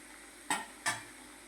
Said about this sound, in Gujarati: જુઓ હજુ ધીમા તાપે તળાય છે સક્કરિયા